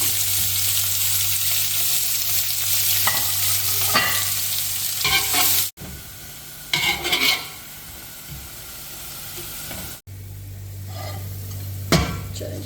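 Onions frying in oil in a pot for beef nalli pulao, a loud continuous sizzle with stirring scrapes, cut by two brief breaks, no voices.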